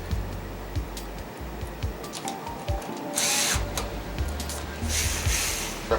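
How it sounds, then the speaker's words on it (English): A power drill drives screws back into a 50-inch Sceptre X505BV LED TV during reassembly, giving two short, close whirring bursts over quiet clicks and handling noise. "We want to put our screws back in."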